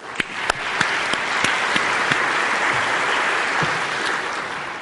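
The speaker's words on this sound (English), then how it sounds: "So let's give them a round of applause, please." An award ceremony audience applauds, opening with a few distinct sharp claps that quickly swell into full, steady applause from a large crowd.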